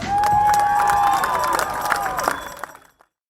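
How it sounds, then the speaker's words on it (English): A crowd at a charity fun run applauds and cheers loudly with a high whistle at the start, the clapping swelling then fading out over about three seconds. "A round of applause"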